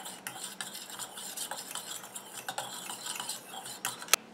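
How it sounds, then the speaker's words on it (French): Stirring face serum ingredients in a container, a steady soft scraping and swirling with faint clinks from the utensil and one sharp tap near the end, close and quiet, without speech. "Je mélange."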